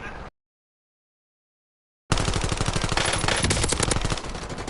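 Rapid automatic gunfire from the video game Warzone rattles loud and continuous after a brief silent gap, a dense stream of shots that eases slightly toward the end.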